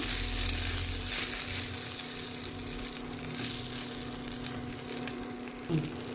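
Poha with grated coconut sizzles and crackles as it is stirred in a hot pan, a continuous frying hiss that runs close and steady with occasional scraping stirs.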